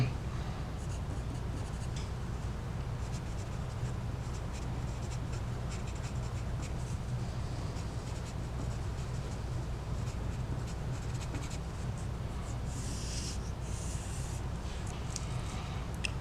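Pen writing on a surface in a geometry lesson: a continuous, faint scratchy rasp under a steady low hum, fairly close, with a few brighter strokes near the end and no talk.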